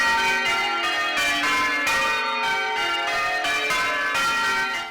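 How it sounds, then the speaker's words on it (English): Church bells in Stirling, Scotland ring out loudly for the city's celebrations in a continuous, overlapping peal, strikes tumbling over one another without pause. "its local bell ringers are making sure the celebrations are heard"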